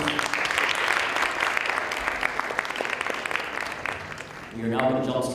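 A crowd at a university debate claps steadily in a dense, continuous burst that tapers slightly before a voice begins speaking near the end.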